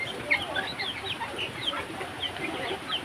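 Chickens cluck softly and repeatedly nearby, short chirpy calls scattered over a steady low background.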